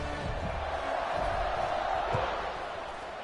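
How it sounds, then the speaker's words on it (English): Football stadium crowd roaring steadily through a kickoff at an Oklahoma State at Indiana game, a loud continuous wash of cheering with a few deeper thumps underneath. "this crowd is feeling themselves after that last drive"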